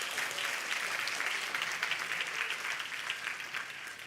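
A tech conference audience at the Zabbix Summit 2024 applauds its sponsors with a dense, steady round of clapping that continues for about four seconds and fades slightly at the end.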